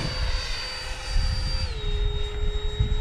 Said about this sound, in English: Powering up, putting the flaps up to take off.